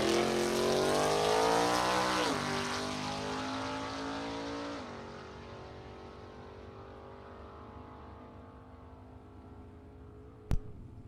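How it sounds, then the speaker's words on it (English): A quick Camaro drag car making a solo pass at a drag strip, its loud engine roaring hard and then fading steadily into the distance, with a sharp bang near the end. "Very quick Camaro coming up for a solo pass on the right-hand side."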